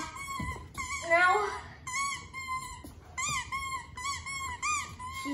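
A nine-week-old standard poodle puppy whimpers and squeaks in repeated high, whiny bursts during play, close by and fairly loud, with brief pauses between the cries.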